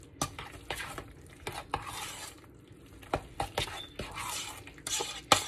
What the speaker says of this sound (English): So I'm stirring that up really well.